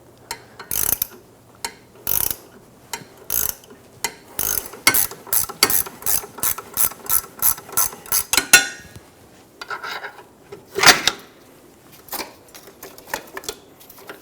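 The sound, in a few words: two-jaw puller pressing stuck ball joint out of knuckle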